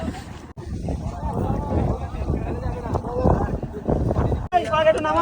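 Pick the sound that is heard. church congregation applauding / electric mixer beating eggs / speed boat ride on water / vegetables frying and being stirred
speed boat ride on water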